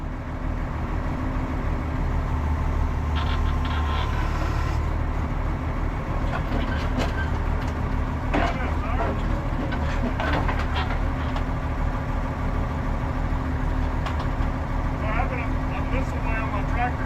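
A tractor engine runs steadily at a junkyard where classic Corvettes are being moved, a low continuous rumble with a constant hum throughout and occasional clanks and rattles on top, while people talk nearby.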